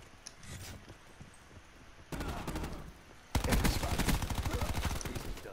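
Light machine gun fire in an online multiplayer shooter video game: sustained rapid bursts, quieter and more distant at first, then a louder, closer stretch of dense continuous automatic fire.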